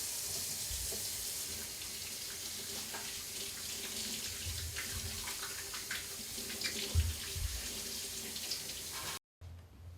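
A kitchen tap runs steadily while someone washes up, a continuous hiss with faint clinks and splashes, before cutting off abruptly near the end.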